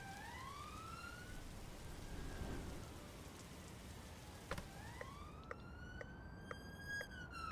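An emergency vehicle siren in the Roblox game Oxford Response wails up and down in rising and falling sweeps over steady rain-like hiss, with a few sharp clicks near the end.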